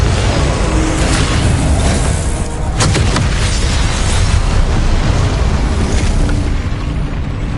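Confringo blasting spells explode in the Hogwarts Legacy video game on PS5 as a loud, continuous roaring rumble with sharp cracking bursts around the middle.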